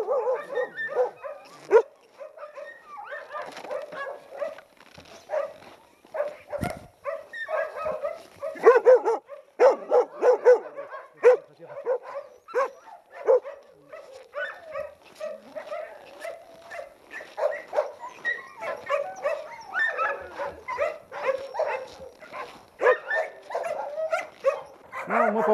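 Yakutian hunting laikas kept in kennel enclosures bark, yip and whimper almost without pause. The many dogs overlap one another in a busy, fairly close chorus.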